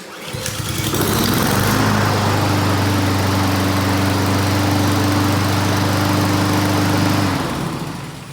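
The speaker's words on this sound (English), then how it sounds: "Pull down your starting lever. Give it a crank." A Honda GCV160/190 lawn mower engine fires after a pull and runs at a steady, loud, close drone for about six seconds before cutting out.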